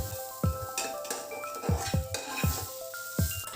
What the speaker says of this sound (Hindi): डालेंगे इसमें कुटी हुई अदरक लहसुन। साथ ही साथ डालेंगे लाल मिर्च, हल्दी, ज़ीरा पाउडर और नमक। इन सभी को थोड़ा भून लें।